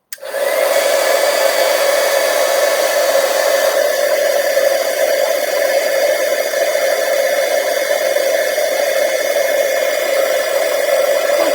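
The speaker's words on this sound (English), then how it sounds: "now we're going to heat up this whole big piece of gold that we" A torch heats a large piece of gold, a loud, steady roaring hiss that starts abruptly and holds without a break, close by and with no talking.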